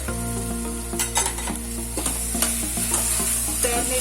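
Beans and carrots stir-frying in a pan for vegetable biryani, steady sizzling with repeated scraping and stirring clinks from a utensil, close and clear over faint background music.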